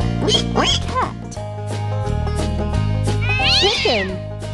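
Cat meows in a kids' farm animal stacking game, several loud rising and falling meows over bouncy background music, with a longer drawn-out meow near the end.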